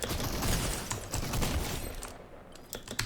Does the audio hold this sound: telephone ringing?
no